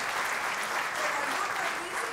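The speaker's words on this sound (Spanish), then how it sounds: "Démosle un aplauso aquí a Dios." Church congregation applauding together, a steady continuous clapping that fills the room at close range and holds even throughout, with a faint voice underneath.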